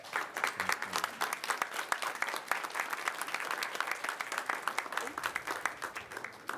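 Applause from the audience at an Iowa City city council meeting, a dense sustained patter of many hands clapping at steady loudness throughout, with no speech over it.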